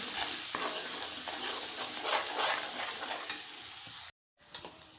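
Kashmiri chilli and vegetable spice mix stirred in a hot pan, a steady close sizzle with scraping strokes that cuts out near the end before a brief return.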